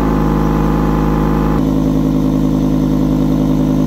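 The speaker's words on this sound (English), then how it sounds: "You may have noticed that the exhaust is a bit loud." A Volvo V70 with a small hole between the exhaust pipe and the muffler idles loudly, a steady low droning rumble close up that shifts pitch slightly partway through before cutting off at the end.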